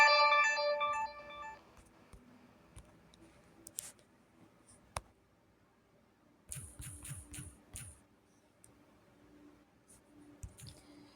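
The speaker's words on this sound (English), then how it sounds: "Sorry, I got a notification." A phone notification ringtone chimes loudly for under two seconds at the start, then fades into a quiet room with scattered small clicks and rustles and no talking.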